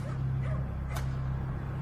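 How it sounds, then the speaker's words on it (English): A stray dog barks on a quiet London street at night, with a few soft, yelping barks at a moderate distance over a low, steady hum. "apart from the occasional bark of a stray dog"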